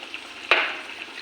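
Chutney spice paste for hog plum chutney drops into a hot pan with one sharp hiss that fades into a soft, steady sizzle, close by and with no talking.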